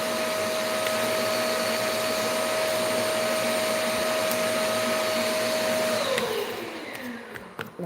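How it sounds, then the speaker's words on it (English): A self-emptying robot vacuum cleaner empties its bin at the charging dock with a loud, steady motor whine that holds for about six seconds, then winds down and fades near the end. "My vacuum is charging and it empties itself."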